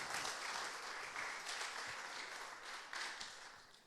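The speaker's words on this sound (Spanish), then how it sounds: "vamos a recibirlo con un cariñoso aplauso" Steady applause from a crowd, a dense wash of clapping heard at a distance that stays even and slowly fades.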